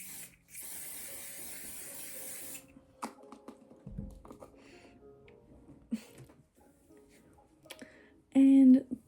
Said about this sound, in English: then I go on with the One Size One Till Dawn setting spray, and this really locks your makeup in